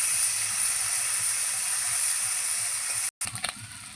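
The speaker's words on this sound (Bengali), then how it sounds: "প্রথমে আমি চিংড়ি মাছগুলো ভেজে নিচ্ছি।" Steady, bright hiss of prawns frying in oil close up, continuous for about three seconds, then a brief cut followed by a few clinks.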